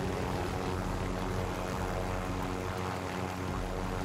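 A helicopter in Call of Duty: Modern Warfare flies close by, giving a loud, steady rotor and engine drone with a dense low throb that runs unbroken for a few seconds.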